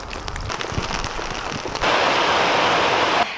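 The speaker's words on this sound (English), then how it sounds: "It has been raining for the past 4 days now." Steady rain falling around a house under construction with the roof newly on, a dense hiss of drops on surfaces that swells louder partway through and stays constant, with no voices.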